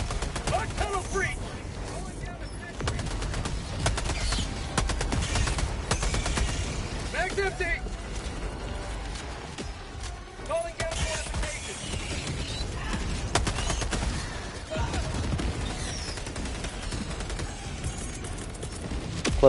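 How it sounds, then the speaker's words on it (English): Gatling turret firing in the Helldivers video game, bursts of rapid clattering shots that run nearly the whole time over ongoing battle noise, with players talking at intervals. "I'm gonna just stay prone because of that Gatling turret."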